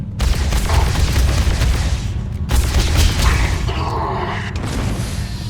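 Grenade blasts in the video game Starfield, a dense, loud rumble of booming detonations that runs almost the whole time, with a brief gap partway through.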